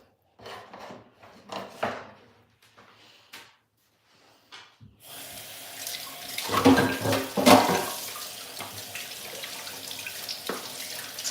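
Tap water running from a kitchen faucet as produce for a healthy juice is rinsed under it, a steady close splashing flow starting after a few seconds of quieter handling noises.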